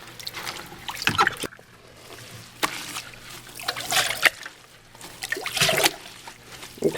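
Hands squeeze and knead raw beeswax in a basin of warm water, giving wet squelching, gurgling and trickling in uneven bursts with sharp little knocks in between.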